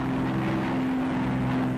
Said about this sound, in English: Day bombers blast coastal installations, continuing the heavy attacks of the night before.